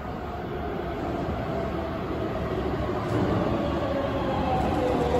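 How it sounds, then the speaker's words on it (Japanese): A Keisei 3700-series commuter train, the last train bound for Keisei Takasago, rumbles steadily into Higashi-Nihombashi station, a continuous low roar of wheels and motors with faint high squeals near the end. "到着の電車は京成高砂行き最終電車です"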